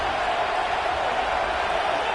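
A stadium crowd in the Madden football video game roars in a steady, dense wash of cheering that holds evenly throughout, with no distinct peaks or pauses.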